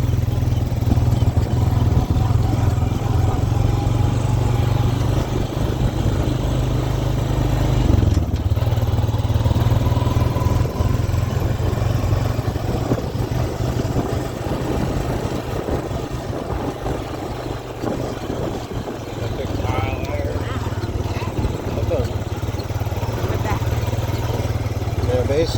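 A four-wheeler ATV engine drones steadily at close range while riding around a rough dirt track on a homestead. Someone talks over the continuous engine rumble throughout.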